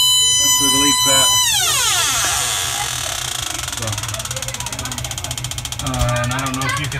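An electronic refrigerant leak detector sniffs at a leaking evaporator coil on a triple evaporator system, its tone sliding downward and then breaking into a fast, insistent ticking alarm that speeds up while someone talks nearby.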